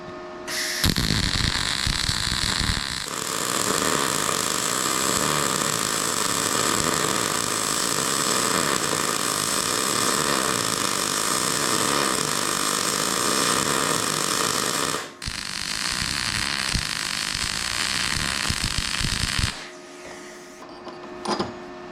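A MIG welder laying a bead in a circular weaving motion gives a loud, steady crackling buzz for about twelve seconds. It breaks off briefly, then resumes for a few more seconds. Nobody speaks.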